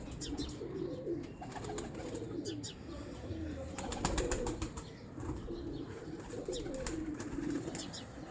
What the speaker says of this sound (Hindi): ये है जी तार वाले असल कबूतर